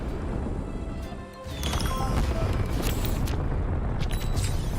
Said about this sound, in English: I wish the fireworks could stay up there forever.